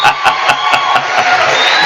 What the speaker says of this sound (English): Gotta give them applause.